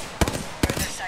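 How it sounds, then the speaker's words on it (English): Two distant gunshots pop about half a second apart during a ranked Apex Legends match with Horizon, faint against the surrounding game ambience. "Those shots behind us from staging?"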